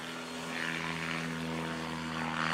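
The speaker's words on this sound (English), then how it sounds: "Pat McIntyre, final takeoff in the Rans S7 of his unlimited career. Spooling it up, full throttle" Rans S7 light propeller aircraft at full throttle on its takeoff run in a STOL competition, a steady loud engine drone with a strong propeller hum, continuous and close, no talking.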